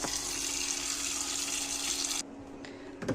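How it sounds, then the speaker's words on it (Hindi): Chopped eggplant pieces washed under a running kitchen tap: a steady, close rush of splashing water for about two seconds, then it stops and a few light drips and knocks follow. "अब हम इनको धोएंगे अच्छे से"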